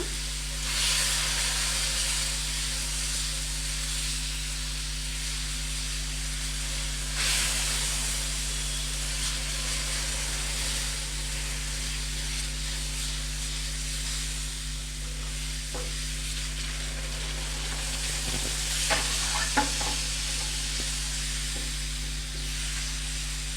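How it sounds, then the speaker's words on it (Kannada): Wheat flour halwa stirred steadily in a pan with sugar syrup and cardamom powder, giving a continuous soft sizzle and hiss with occasional scraping, with a low steady hum underneath and no talking. "ಇದು ಕೈ ಬಿಡದಲ್ಲೇ ತಿರುಗಿಸ್ತಾ ಇರಬೇಕು"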